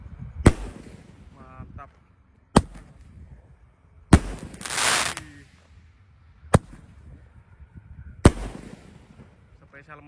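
Roman candle fireworks, a large 1.9-inch tube and a 49-shot box, fire five sharp, loud pops spaced about two seconds apart, with a hissing whoosh after one shot and faint voices in the gaps.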